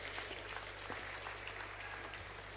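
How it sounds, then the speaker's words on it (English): Applause from a crowd at a university graduation ceremony, a steady wash of clapping held at an even level for a couple of seconds after a graduate is congratulated. "Let's give her a round of applause."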